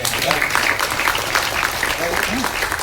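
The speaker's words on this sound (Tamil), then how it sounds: "பலத்த கரகோஷம்" Loud applause from a film event audience in Tamil Nadu, a dense steady wash of clapping filling the whole stretch, with a voice faintly audible beneath it.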